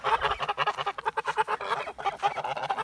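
A flock of Kholmogory geese honking and cackling in rapid, overlapping calls, nearby and continuous.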